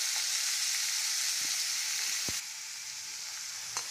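Chopped cabbage frying in a hot pan for schezwan fried rice, a loud steady sizzle close up with a couple of brief stirring knocks and a slight drop in intensity partway through.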